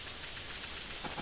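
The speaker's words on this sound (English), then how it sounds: "It's raining." Rain falling on a farm in the Harvest Moon: A Wonderful Life video game, a steady, faint hiss of patter with no voices.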